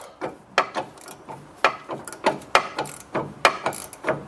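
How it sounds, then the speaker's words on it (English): A self-locking nut being slowly turned off a sway bar link on a Dodge, a series of sharp metallic ratcheting clicks in an uneven rhythm, close and fairly quiet, no talking. "And we're slowly removing that nut."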